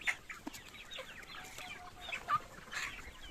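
Golden (Sonali) chickens cluck faintly in a few short, scattered calls, with no voices around them.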